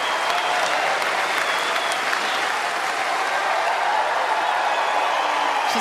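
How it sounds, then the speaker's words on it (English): Steady, dense applause from a tennis crowd at a United Cup match fills the whole stretch, a continuous wash of clapping with no voices on top. "She's getting the crowd involved, isn't she, Siegemund?"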